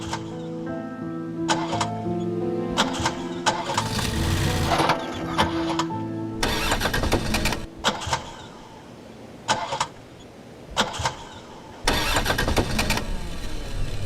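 A car engine cranks repeatedly in short bursts but fails to catch, the starter churning several times with pauses between attempts, loud and close with no talk over it.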